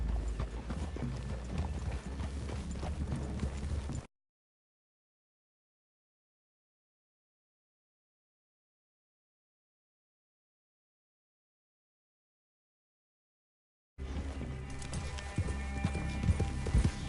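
Horses' hooves clip-clop steadily in a PS4 Western video game, an even rhythmic clatter that plays for about four seconds, breaks off into a long silence, then returns near the end.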